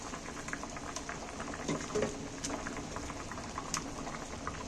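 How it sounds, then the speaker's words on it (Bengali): Fish curry with potatoes and mixed vegetables simmers in a pot, with a faint, steady bubbling hiss and occasional soft pops, heard alone. "এইবার আমি ঝোলে মাছগুলো তুলে দিচ্ছি"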